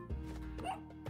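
A dog in the video game Spelunky 2 gives a short, close bark or yip, heard briefly over steady game background sound.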